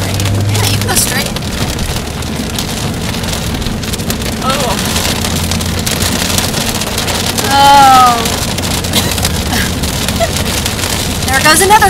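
Hail and rain pound steadily on a car as it drives, a loud continuous drumming hiss with a low road rumble underneath, while a person briefly exclaims.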